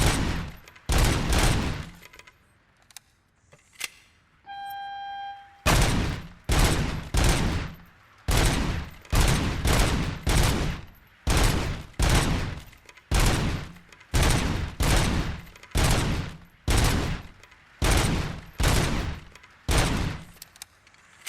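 Rapid bursts of gunfire from the Robocop: Rogue City video game, a long steady run of loud, evenly spaced shots with a brief pause and a short electronic tone early on, no talking.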